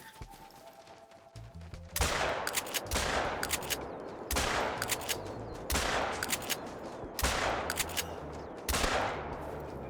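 Gunshots from the hunting video game The Hunter: Call of the Wild: six loud, sharp reports fired at roughly regular intervals of a bit more than a second, each followed by a short decaying echo, with no talk.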